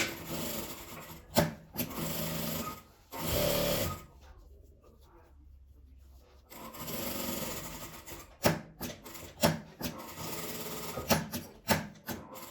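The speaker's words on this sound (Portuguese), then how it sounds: "Aqui eu vou passar um pesponto pra firmar esse tecido" Sewing machine running in several bursts, topstitching around the edges of fabric scraps to firm them up, its whirring motor rising and stopping between short quiet pauses and brief clicks of handling.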